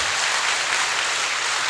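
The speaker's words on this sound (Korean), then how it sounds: "수화 통역에는 박수가 가는 것 같습니다" A church audience applauds a sign-language interpreter, steady dense clapping throughout the short moment with no voices standing out.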